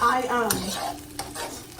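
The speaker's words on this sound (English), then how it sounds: "I hear a little sizzle." Steady sizzling of food frying in a hot pan, with a few light clinks of a utensil, close by and fairly quiet.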